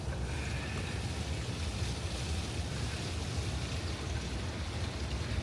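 Gray water from an RV holding tank drains through a sewer hose at an RV park, a steady rushing, gurgling flow that holds constant and close for the whole stretch, with no voices.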